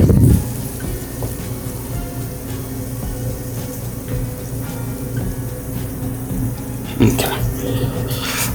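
Liquid pours steadily with a soft splashing trickle, a brief louder splash near the end, close by.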